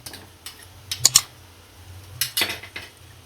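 A spoon stirring ginger, chili and garlic paste into cooked onions in a pan for Gujarati makai nu shak, with a few sharp clinks and light scrapes against the metal and quiet moments between them.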